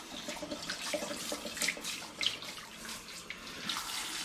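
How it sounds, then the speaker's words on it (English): Tap water runs steadily into a kitchen sink while bottles of home-brewed cotton candy cider are rinsed of sticky residue, with small splashes and clinks over a constant close rush. "I'm just rinsing off any sticky residue which might be on the bottles"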